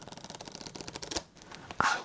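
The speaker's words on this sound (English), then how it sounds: "I will still include some shuffling and dealing" Playing cards for a game of Fortress solitaire are shuffled close to the microphone in a quiet setting, giving rapid papery riffles and flicks that end in a sharper snap.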